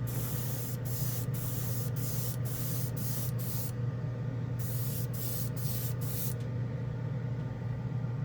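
An airbrush spraying OdenKan Final Chrome paint, a close steady hiss in repeated short bursts with brief pauses, over a constant low hum.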